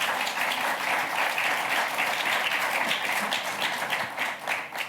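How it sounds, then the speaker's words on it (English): An audience at a conference applauds its panelists, giving steady, dense clapping that carries on for several seconds and fades slightly near the end. "a round of applause for our esteemed panelists this afternoon"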